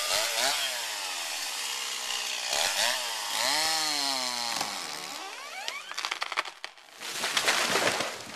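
A chainsaw bites through the back hinge of a tree during forestry felling, its loud engine revving and bogging steadily before cutting out, followed by cracking wood and a crashing, crunching fall.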